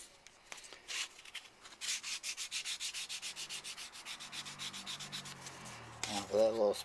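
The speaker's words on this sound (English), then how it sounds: "Now for that little spot right there, we're going to just lightly sand over it." Sandpaper lightly rubbed over a small spot on a Star Trek Enterprise model kit, a steady back-and-forth rhythm of many short, close scratchy strokes that grow louder near the end, with no voices.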